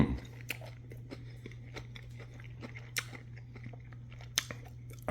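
Close crunching bites and chewing of crunchy-bottomed pizza reheated in a cast iron pan: irregular sharp crackles, a few louder crunches, over a steady low hum.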